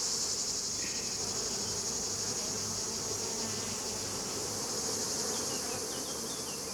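Honeybees from crowded hives buzz across a lavender field in full bloom in the Luberon, Provence, during the 2020 harvest. A steady, dense drone holds throughout, with no talk.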